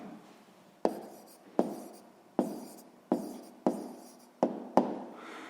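An answer to a sixth-grade maths exercise written by hand with a pen on paper: quiet, close scratchy strokes, each starting with a sharp tap, repeating steadily about every second, with no talking.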